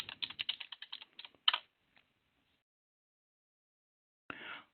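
Quick run of keyboard typing on a computer as a username and password are entered, a rapid burst of clicks, then a short gap and one final louder keypress flurry, close and clear with no voices.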